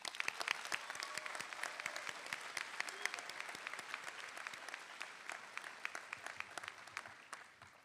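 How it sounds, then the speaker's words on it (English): Audience applause at the 2024 Vaughn College of Aeronautics and Technology commencement ceremony for graduating students: steady, dense clapping from a large crowd with no voices, holding for several seconds before easing off at the end. "So how about let's give them a round of applause."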